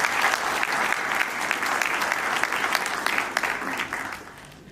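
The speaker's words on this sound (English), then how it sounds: "So we need to really give a big applause for his contributions." Sustained audience applause at a seminar, dense steady clapping from a large crowd that holds for several seconds and then fades toward the end.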